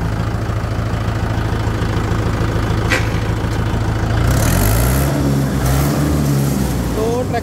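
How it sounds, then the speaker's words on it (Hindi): A Mahindra 575 XP Plus tractor engine chugs loudly and steadily up close during a road speed and braking test, its rumble shifting in pitch midway as it changes speed. "तो अभी जो है ट्रैक्टर को ब्रेकिंग और जो है रोड स्पीड टेस्ट करते हैं जी।"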